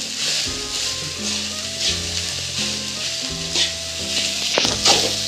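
Garlic fried rice with salt and chili being stirred in a hot pan, loud close sizzling with scraping spatula strokes and a brief clatter near the end.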